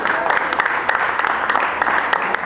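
Audience applause at an inter-school parliamentary debate competition, dense and loud clapping from a crowd, sustained evenly for the whole stretch.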